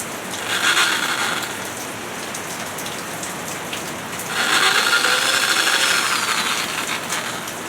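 Two bursts of a power tool spin bolts off a Suzuki DR650 motorcycle headlight guard. Each is a loud whirring buzz lasting a few seconds, close by, with a dense rattling steady noise in between.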